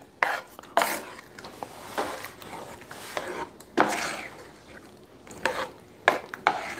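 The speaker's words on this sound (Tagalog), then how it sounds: "Haluin muna natin yan." Spoon stirring arroz caldo in a pot, irregular close scraping and sloshing strokes in quick bursts, with small knocks against the pot and no talking.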